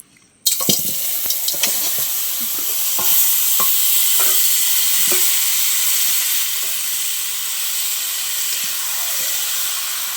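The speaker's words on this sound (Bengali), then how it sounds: "শুধু কড়াই আমি মাংসটা দিয়ে শুধু কষা।" Mutton for kosha fries in a kadai with a steady, close sizzling hiss, broken by scattered scraping and knocking as the meat is stirred.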